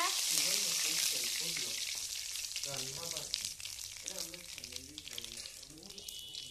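Bay leaves and kalonji seeds frying in hot oil, a loud crackling sizzle that eases slightly over time, with someone talking over it throughout.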